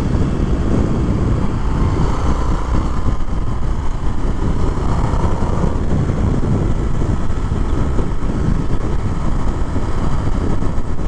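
A 2022 Indian FTR R Carbon motorcycle with a 1200 engine cruising at 55 mph around 3,000 rpm, giving a steady, continuous engine drone mixed with heavy wind rush, with no talk.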